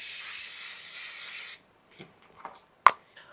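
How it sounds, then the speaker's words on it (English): Makeup setting spray misted from a pump bottle in one continuous hiss lasting about a second and a half, close and clear, followed by faint small handling clicks. "as you spray this, you can literally feel your makeup locking in real time"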